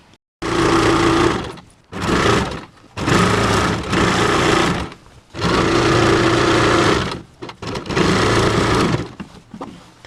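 A sewing machine stitches the folded waistband of an inskirt, running in several loud, close bursts of steady whirring separated by short pauses.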